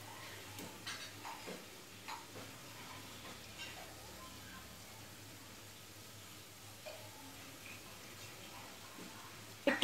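Gulab jamun (pantua) balls frying gently in oil, a low, steady bubbling sizzle with occasional light stirring taps, fairly quiet and continuous throughout.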